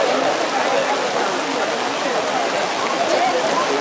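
Steady, dense rain falls and patters on surfaces throughout, loud and close, an even wash of sound at an outdoor public gathering.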